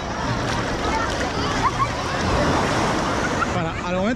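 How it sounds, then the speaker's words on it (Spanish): Small ocean waves wash in at Agua Dulce beach in Chorrillos, Lima, a steady broadband surf roar with light wind, with a voice talking faintly over it. "Como ustedes ven, no hay muchas olas muy grandes."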